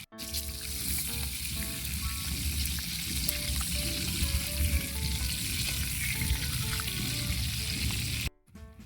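Longganisa sausage frying in a pan, a dense continuous sizzle and crackle, close and fairly loud, cutting off near the end.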